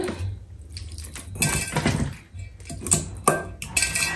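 Clinks and scrapes of utensils against a metal sufuria cooking pot in quick bursts as jollof rice ingredients are moved in, with short pauses between; no one speaks.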